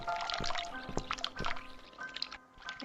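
Running water trickling and dripping in The Cat Lady video game, faint liquid splashes and drips repeating through a quiet, hollow indoor ambience.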